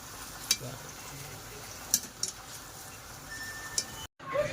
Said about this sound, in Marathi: हाय फ्लेमवरतीच त्याला तळून घेऊया.